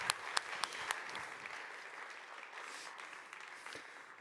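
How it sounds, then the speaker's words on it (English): Audience applause at a conference greeting a speaker, starting with a few distinct loud claps and settling into softer, thinning clapping that fades toward the end. "Give him a warm applause"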